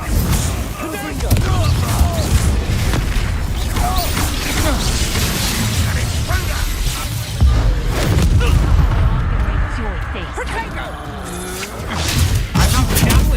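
A Confringo blasting-curse explosion in the video game Hogwarts Legacy, set within a dense, continuous roar of spell combat: loud crashing and rumbling with layered impacts that barely let up.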